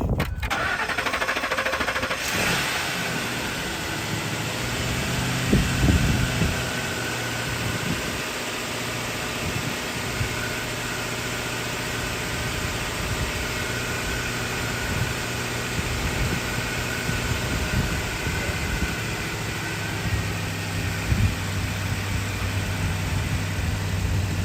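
A Ford F-150 with a 4.6L engine starts with a brief crank and settles into a steady, even idle that runs unchanged for the rest of the stretch, with a constant low drone and broadband hiss.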